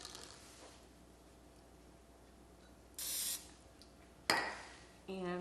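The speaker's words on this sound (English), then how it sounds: "I am gonna spray my scoop." Two short hissing bursts of aerosol cooking spray onto a scoop, close up, separated by a pause, followed by a brief clink in a quiet room.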